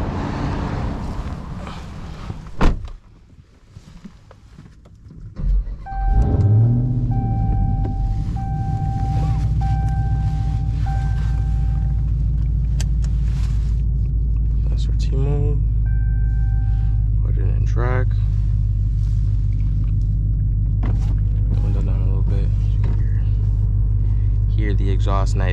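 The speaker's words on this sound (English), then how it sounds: "Extremely loud car, man. This thing's a beast." A Dodge Charger Hellcat fitted with headers and a full exhaust starts with a sharp bark, then settles into a deep, loud, rumbling idle and revs that drone steadily from close by while someone talks over it.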